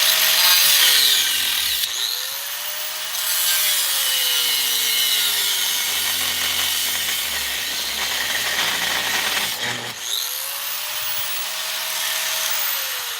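Angle grinder cutting metal on a 2000 Chevy Silverado during a mini spool install, a loud steady whine with bright metallic grinding that pauses briefly near the middle and end as the disc slows and restarts.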